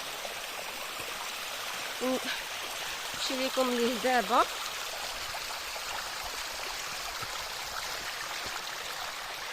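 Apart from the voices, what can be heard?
waterfall flowing in Ait Lahcen, Agadir, Morocco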